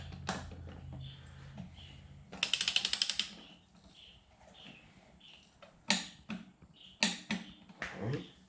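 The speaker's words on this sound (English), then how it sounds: "And you always want to torque your wheels down in a crisscross pattern." A torque wrench tightens wheel lug nuts with a rapid run of close ratcheting clicks, followed by a few single sharp clicks and metallic knocks, in a quiet setting.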